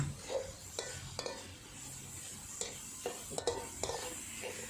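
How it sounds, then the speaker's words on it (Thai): Minced pork stir-fried in a pan over high heat, with a steady soft sizzle under repeated scraping stirs of a utensil against the pan, close and fairly quiet, no talking. "เปิดไฟแรงนะคะ แล้วก็ผัดหมูให้สุกก่อนเลยนะคะ"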